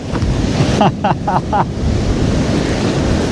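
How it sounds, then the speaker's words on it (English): Ocean surf breaking on North Donmouth Beach in Aberdeen while fishing, a loud continuous roar of waves with heavy wind buffeting the microphone and a few brief squeaky tones early on. "You can probably hear the surf."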